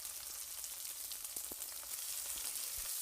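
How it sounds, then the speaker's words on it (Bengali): About 400 grams of chopped onions frying in hot oil in a kadai wok, giving a faint, even hiss of sizzling with a few soft ticks. No voices are heard. "তেল গরম করে এর মধ্যে 400 গ্রাম পেঁয়াজ কুচি দিয়ে লালচে লালচে করে ভেজে নিতে হবে।"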